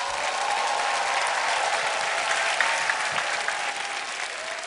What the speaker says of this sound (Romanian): Doamnelor și domnilor, aplauze pentru Drăgan Victor!